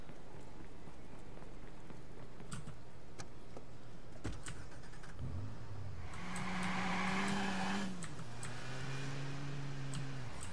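A car driving in the video game Watch Dogs, its engine note rising and shifting through gears over a steady low rumble, with road noise growing louder partway through.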